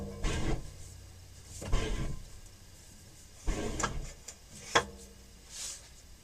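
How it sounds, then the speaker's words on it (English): Antique card for Edmondson railway tickets being cut into 2 1/4 inch strips on old cutting equipment: a few separate thumps and slicing clacks, spaced apart over a low background hum, no talking. "The next job is to cut them into 2 1/4 inch strips."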